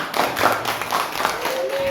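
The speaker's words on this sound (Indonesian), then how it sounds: "kasih tepuk tangan untuk kelompok 1" Classroom group clapping for the first student group, a brief burst of hand claps lasting about two seconds, fairly close and steady with a faint voice near the end.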